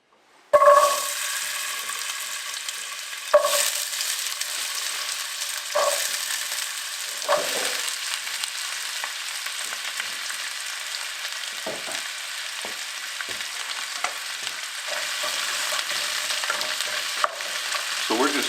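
Vegetables hitting a heated pan and sautéing for a soul-food smoked and braised oxtail dish, a continuous bright sizzle with periodic stirring scrapes and clacks across the whole stretch, close and with no talking.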